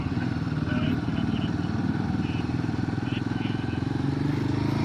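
Motorcycles on a hill ride, a Himalayan 450 or KTM ADV 390, with a steady engine drone and rattle heard from on the bike, wind noise over it, and voices faintly under the engine.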